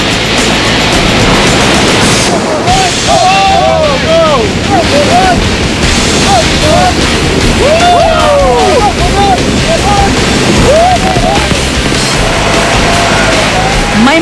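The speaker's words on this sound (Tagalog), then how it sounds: "kailangang malagpasan ang mga rapids o yung bahagi ng ilog na mabilis at malawashing machine ang takbo ng tubig" Rushing river rapids churning around an inflatable raft, a loud, constant roar of turbulent water with scattered high shouts or whistling cries riding over it.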